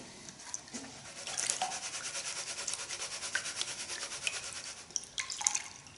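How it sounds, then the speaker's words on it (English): Wet gravel and paydirt sloshing and grinding in a gold pan shaken back and forth, a steady rhythmic rubbing swish repeated many times at close range, fairly soft, with a few clicks of stones and no voices. "When you liquefy the material in your pan and agitate it back and forth"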